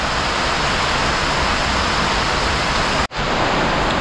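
Steady, loud rainfall hisses as dense, even noise throughout, broken by one abrupt cut near the end before resuming.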